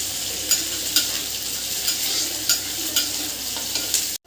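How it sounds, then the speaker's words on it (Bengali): Ginger, garlic and onion stir-frying in a pan: a steady hissing sizzle with regular spatula scrapes about every half second, close and clear, cutting off abruptly at the end. "একটু ভাজা ভাজা করে নেবো"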